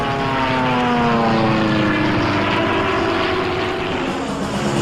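Steady, loud drone of WWII fighter plane propeller engines during a dogfight, a continuous throbbing roar with slowly shifting pitch and no talk.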